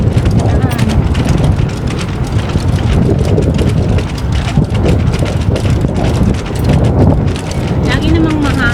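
Strong wind buffets the microphone with a constant rough roar, and a voice speaks faintly underneath.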